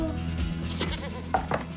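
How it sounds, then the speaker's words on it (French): A goat bleats a few short, nasal cries over a low background murmur, fairly close and moderately loud, with faint voices in the mix. "Vous avez une chèvre?"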